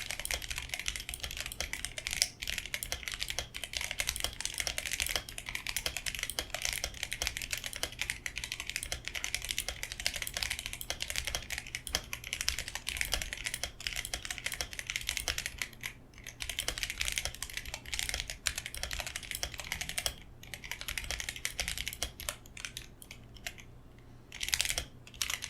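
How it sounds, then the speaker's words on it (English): Drop Halo True tactile mechanical keyboard switches being typed on, a continuous close flurry of crisp clicky keystrokes with an even, fast rhythm and no talking. "I'll be leaving a sound test here for you guys to basically hear how they sound on a keyboard."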